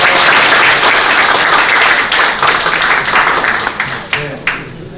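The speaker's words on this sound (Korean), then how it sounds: "큰 박수와 함께 시작하겠습니다" An audience at a bipartisan political reform debate in Daegu gives a loud, steady round of applause that holds for several seconds, then thins into a few scattered claps as it fades.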